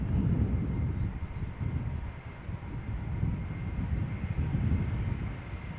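Lufthansa Airbus A319 airliner in Star Alliance livery arriving from Munich at Schiphol Airport, a steady, broad low roar of jet engines that holds fairly loud throughout, with wind rumble on the microphone and no talking.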